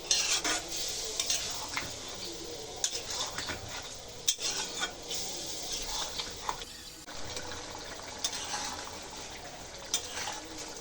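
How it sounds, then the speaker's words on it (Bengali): Kadai chicken with tomatoes being stir-fried in a pan without added water, a spoon scraping and clattering in steady repeated strokes over a low sizzle, close and fairly quiet with no talking. "টমেটো পানি বের হয়ে গেছে এখন আলতো আছে ভুনে নিতে হবে"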